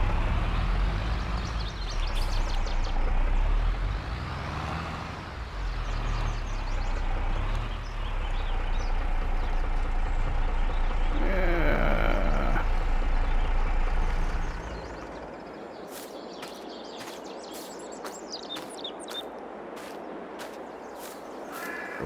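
Trucks lined up to haul wheat in Farming Simulator 22, with a loud, steady engine rumble that fades and gives way to lighter clicks and ticks near the end.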